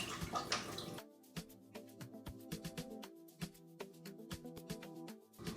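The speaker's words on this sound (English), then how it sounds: "You want to add enough water that the chicken is covered with water." Water pours briefly into a cooking pot holding chicken for stewing, then gives way to quieter trickles, drips and light clinks close by. No one speaks.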